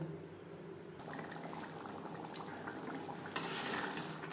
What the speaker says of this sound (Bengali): আমি এখানে চানা সেদ্ধ করা জল অ্যাড করলাম।